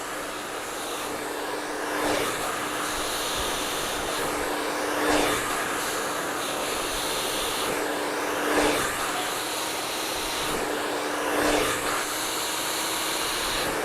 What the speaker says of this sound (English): Following the brush out with the blow dryer